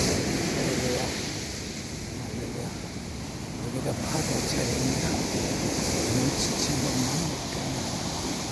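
Ocean surf on the sandy shore of Myeongpa Beach rolls in a continuous broad wash with gusty wind noise against the microphone, steady and fairly loud throughout.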